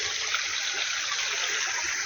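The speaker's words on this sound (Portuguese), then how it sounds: "Ó, que é água." Water trickling outdoors in a natural setting, a steady, continuous close-up flow with bright splashing texture and no talk over it.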